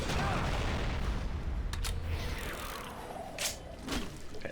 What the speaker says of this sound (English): It's a shame that his explosion doesn't do damage to enemies.